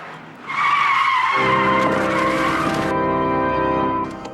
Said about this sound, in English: Mike's frustration carries through to the handbrake turn.